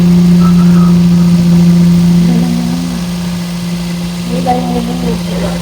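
Car engine running at a raised cold-start idle after a throttle body swap, a steady low drone with a constant hum that eases slightly in level partway through, with brief rising whistles or faint voices layered over it.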